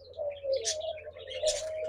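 Diamond doves at a dove farm give soft, low, repeated coos mixed with a few thin chirps, close by and without voices.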